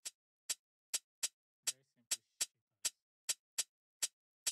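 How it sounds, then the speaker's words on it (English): Soloed stock shaker in an Ableton Live Afrobeat beat, sharp bright hits in a steady, evenly spaced pattern of about a dozen strikes, close and dry, with a brief low murmur partway through. "Then I added the normal shakers that sounded like this."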